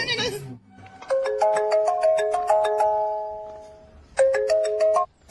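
A phone rings with an incoming call in a dubbed Tamil film scene, its bright electronic melody repeating in two bursts after a short spoken word at the start, close and clear.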